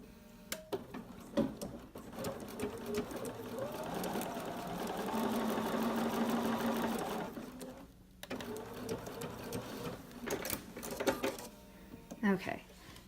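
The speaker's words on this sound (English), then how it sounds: "I'm just going to sew a little bit of a 1/4 inch." A Bernina sewing machine sews a short straight stitch in a quarter-inch seam, its whirring stitching rising for several seconds between softer clicks and handling sounds, with a person talking throughout.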